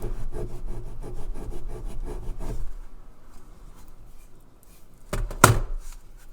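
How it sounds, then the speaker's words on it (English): A thrifted metal handle is scratched for a test, producing a close, steady gritty rubbing for a few seconds, then near silence broken by one short, louder scrape. "I'm just going to do a little bitty kind of scratch test on the handle here"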